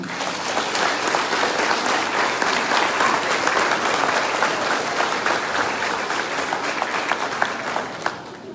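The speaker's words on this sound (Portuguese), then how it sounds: "Então saudemos com uma salva de palmas." Sustained applause from a large church congregation at an Easter Sunday Mass, steady and dense throughout, many hands clapping together without a break.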